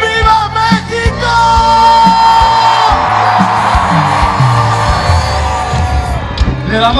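A live concert crowd roars, whoops and shouts together in a loud, sustained swell over sustained tones.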